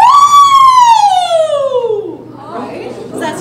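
A singer's voice imitates a siren as an opera vocal warm-up, one smooth loud glide that sweeps high and slowly falls over about two seconds, followed by faint room chatter.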